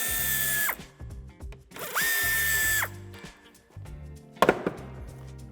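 Power tool driving out the corner screws of a 2018-or-later Audi Q8 bumper, with several short whirring bursts, including a sustained run in the middle, close and loud with pauses between.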